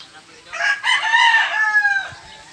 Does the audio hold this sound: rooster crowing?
yes